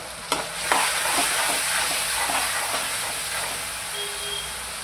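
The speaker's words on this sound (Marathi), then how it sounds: "आता आपण ह्याच्यामध्ये थोडासा 2 चमचे सोया सॉस टाकायचा आहे." Soy sauce going into a sizzling pan of honey chilli potato, a sharp sputter at the start that settles into a steady hiss with light stirring scrapes, close and without talk.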